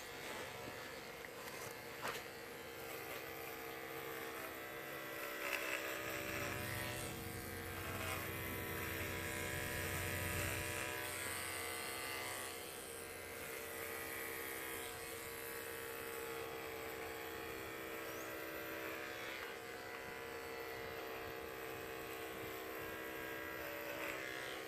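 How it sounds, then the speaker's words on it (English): Electric clippers shaving a buck goat, giving a steady close-up motor buzz with a slightly rough, grinding edge that swells briefly partway through before settling back, with no speech. "You guys can hear that the clippers were getting a little grinding sounding."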